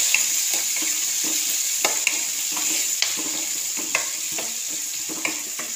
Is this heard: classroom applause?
no